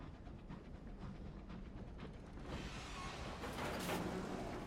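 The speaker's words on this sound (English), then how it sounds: "Did they change the locomotive sounds?" Train locomotive running in the video game Sunless Skies, a steady rumbling rail drone with rhythmic clatter that swells a little louder toward the end.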